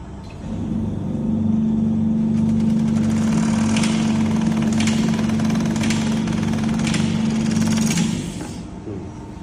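A security label paper counting machine runs with a steady mid-pitched motor hum and rhythmic mechanical ticking, starting up, holding constant for several seconds, then stopping.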